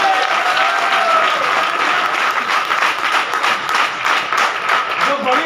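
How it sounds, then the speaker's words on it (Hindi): Dense, steady applause from a seminar audience answering a Hindi-speaking presenter's call, loud and sustained throughout with no pauses. "तो एक बार जोरदार जबरदस्त तालियां।"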